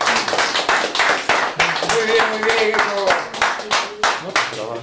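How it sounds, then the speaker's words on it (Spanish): Audience at a copla singing gathering clapping: a burst of rhythmic hand claps, close and fairly loud, mixed with a voice speaking over them and some chatter. "aplauso."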